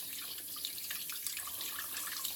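Hot tap water runs into a sink to wet a shaving brush, a close, steady splashing stream with scattered droplet spatters and no talking.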